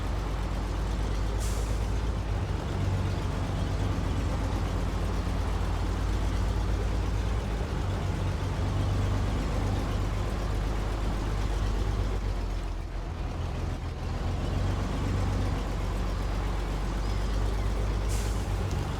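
A heavy truck engine in SnowRunner pulling a long ramped flatbed trailer, a steady loud rumble that continues throughout, with a brief hiss of air near the start and again at the end.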